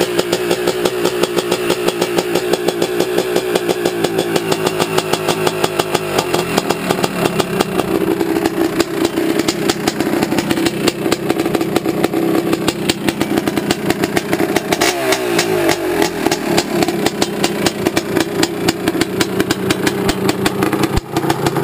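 A 1986 Honda ATC250R three-wheeler with a high-rev ported cylinder starts in 15-degree cold and settles into a loud, close two-stroke idle with rapid steady firing pulses, revving briefly midway before returning to idle.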